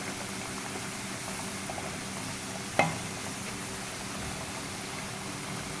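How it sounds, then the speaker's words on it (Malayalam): Potato French fries frying in hot oil over a high flame, a steady soft sizzle and bubbling hiss throughout, broken by one sharp clink or stir near the middle. "ഇതിനി ഒരു മൂന്നാല് മിനിറ്റ് ഇതുപോലെ ഫ്രൈ ചെയ്യണം ഹൈ ഫ്ലെയിമിൽ"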